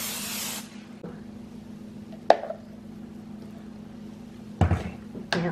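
A short hissing burst of cooking spray onto a pan at the start, followed by quiet clicks and a couple of light knocks of cookware nearby.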